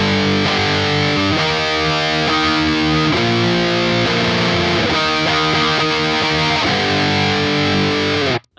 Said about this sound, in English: That final chord section goes along with the singing in this pattern.